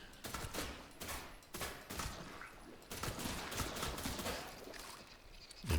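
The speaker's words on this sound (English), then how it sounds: "and then we start shooting." Gunfire in the video game The Last Caretaker, rapid rattling bursts of shots repeating over several seconds, fairly faint and steady with no talking.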